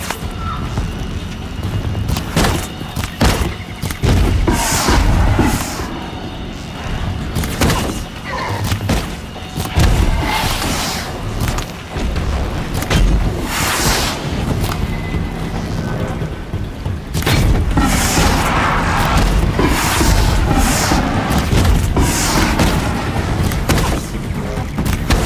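Repeated booming thuds of explosions in the video game Horizon Zero Dawn rumble at a distance, irregular and heavy, layered over a constant low mechanical background din.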